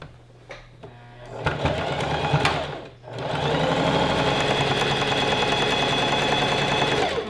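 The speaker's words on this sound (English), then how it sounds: "we're just going to sew the top edge down just to hold everything in place" A sewing machine stitches down the top edge of gathered skirt fabric. A few clicks and a short burst of stitching come first, then after a brief pause it settles into a loud, steady mechanical whir.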